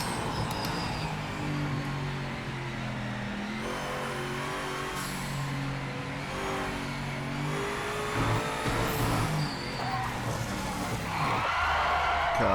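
BMW GTE race car lapping Spa-Francorchamps in the Project Motor Racing video game: a steady, loud engine drone shifts pitch through gear changes and throttle lifts, with a surge of revving and tyre noise toward the end.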